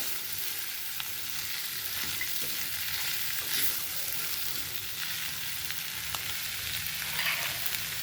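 Green peas tossed in masala for aloo mutter bhaji, a steady hissing sizzle with occasional spatula clicks and stirring, no voices.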